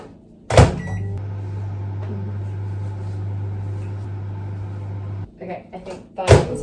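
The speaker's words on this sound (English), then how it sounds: "I'm gonna do 30 more seconds in the microwave" A microwave oven heating milk starts with a clunk, then hums at a steady low drone for several seconds. It ends with clicks and a door sound.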